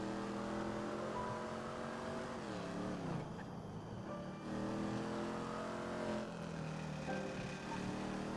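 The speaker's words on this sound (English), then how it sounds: "the cars stall out now as well." A car engine in a driving game revs steadily, drops and sputters as if stalling, then picks back up, a continuous loud engine drone with shifting pitch and no speech.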